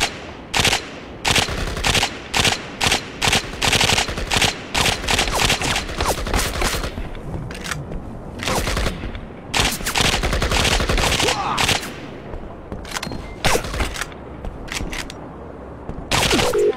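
Rapid bursts of automatic gunfire in PUBG: Battlegrounds crack in quick succession, loud and close, with short pauses between volleys and a few heavier sustained stretches.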